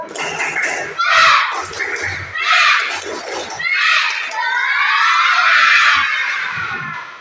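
A class of schoolchildren performs the 'tepuk semangat' clapping chant, shouting loudly in unison in several bursts with a few sharp claps between them.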